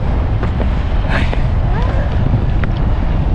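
Strong, cold wind in Estonia buffets the microphone in a steady, roaring rush, with faint voices mixed in underneath.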